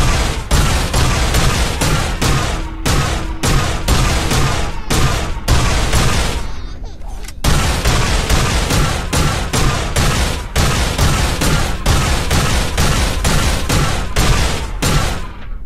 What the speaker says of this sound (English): I'm trying to put a baby to sleep with the sound of gunfire.